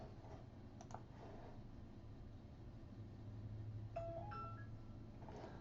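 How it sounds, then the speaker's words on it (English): A mouse button clicks on OK in Adobe Premiere Pro: a couple of faint, sharp clicks over a quiet room hum, with no one speaking. "we are going to click OK"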